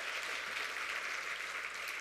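Crowd at a political rally applauding continuously, a dense, even wash of clapping from many hands with no voices on top.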